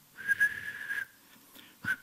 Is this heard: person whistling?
yes